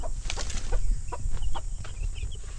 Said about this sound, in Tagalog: Tapos ito naman yung ating ginawang kulungan ng broiler. Ayan, yung ating mga sisiw.